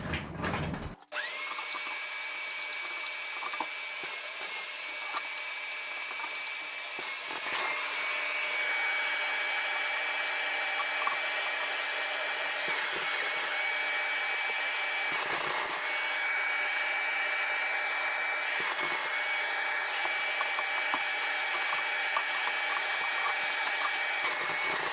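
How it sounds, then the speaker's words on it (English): A vacuum wand cleans the coils of a Garrison portable air conditioner, running with a steady high whine, with occasional brief scraping and bumping as the nozzle moves around. "we'll just vacuum inside there"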